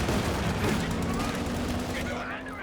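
Rapid gunfire from a Flak Panzer in a Company of Heroes 2 match, a dense continuous fusillade of shots with battle noise, heard under a commentator's voice.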